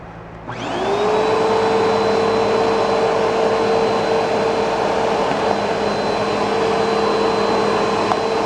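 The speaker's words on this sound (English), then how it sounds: "Vacuum's all put back together now." Reassembled Bissell Powerforce Turbo vacuum cleaner switching on and running steadily, a loud, close, continuous high whine and rush of suction that spins up in the first second and holds at full power.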